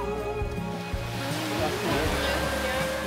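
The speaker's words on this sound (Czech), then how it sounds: "Jsou velké vlny, no." Big sea waves wash onto a beach on Hvar in a steady, broad surf roar that runs throughout, with people talking close by over it.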